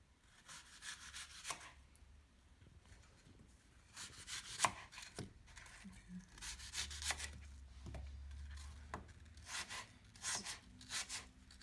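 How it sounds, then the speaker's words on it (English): A knife slices an apple on a cutting board while warm cinnamon apples are being prepared. Soft, repeated cutting strokes come in an uneven rhythm, quiet and close, with no talking. "I like to put the larger part down and just kind of start slicing this"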